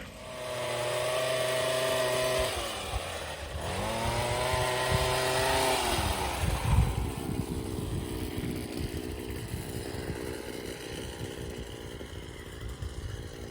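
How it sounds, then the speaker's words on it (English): A chainsaw engine revs up and down with a buzzing whine, dipping and surging as it bites into hedge branches, then settling into a rough idle. "here with his chainsaw, taking off some of the hedge"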